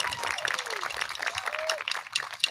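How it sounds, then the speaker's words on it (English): An audience at an awards concert applauds first-year letter recipients, a dense wash of clapping with a few voices and calls rising over it. "A round of applause for first year letter recipients."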